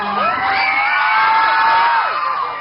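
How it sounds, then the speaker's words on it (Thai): A large crowd at a concert screams and cheers in high-pitched, sustained shrieks and whoops, loud and continuous for a few seconds. "เตรียมเสียงกรี๊ดไว้นะคะ"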